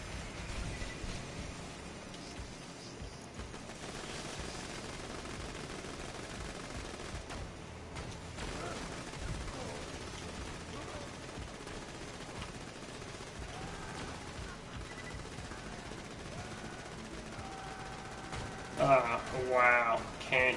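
Rapid automatic gunfire in Borderlands 2 during a Gunzerker raid attempt on OP7-OP8, dense and continuous throughout, with a sharper burst of shots near the end.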